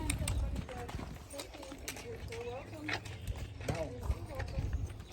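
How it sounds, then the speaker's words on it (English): Horses trot and gallop across a field on a trail ride at Gettysburg, hooves clip-clopping in an uneven rhythm close by, with riders talking over the hoofbeats. "We're ready to gallop across the field."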